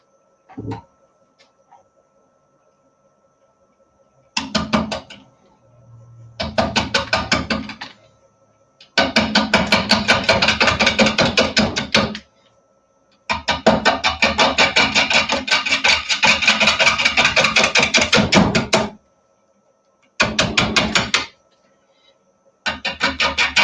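Wood turning on a lathe with slow draw cuts on the bottom of a piece: bursts of scraping and chattering cuts lasting a few seconds each, separated by quiet pauses, with a faint low hum between.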